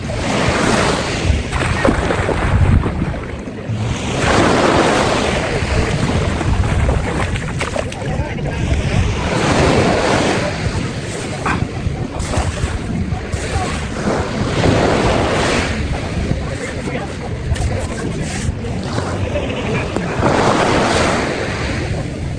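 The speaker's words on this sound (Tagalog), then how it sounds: "At ang karagatan, napakaganda." Ocean surf on the beach at Calaguas Island, Camarines Norte: loud, steady washing waves with gusts of wind buffeting the microphone and someone speaking over it.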